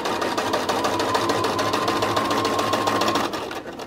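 A Bernina sewing machine backstitches a flat felled seam on denim jeans, a fast, close, steady mechanical rattle that runs for about three seconds before stopping.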